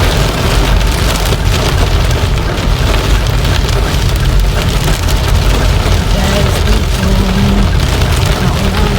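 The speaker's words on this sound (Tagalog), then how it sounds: "Grabe ang ulan." Heavy rain pours down steadily while driving on a rainy day in Pontevedra, a loud, dense, continuous hiss of drops drumming on the car with a low road rumble underneath.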